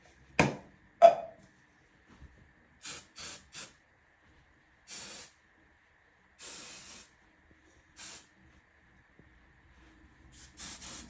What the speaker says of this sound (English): This is where you go in with hairspray.